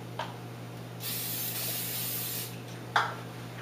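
Non-stick cooking spray hisses steadily from a can onto the inside of muffin rings, one sustained spray of about a second and a half with brief short puffs before and after, alone over a low hum.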